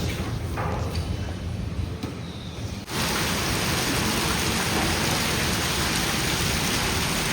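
Steady rain pours down, a dense broadband hiss that swells noticeably louder and fuller after about three seconds and then holds evenly to the end, with no talk.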